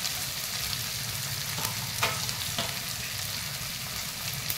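Onion, garlic, ginger and tomato sizzle steadily in hot oil for a red chicken curry, a continuous broad frying hiss with a few brief scraping stirs, close and alone with no talk.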